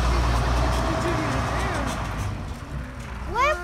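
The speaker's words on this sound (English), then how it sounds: "Guys, look, here comes the school bus." School bus rumbling past with a low engine drone that fades as it moves away, while a voice talks over it.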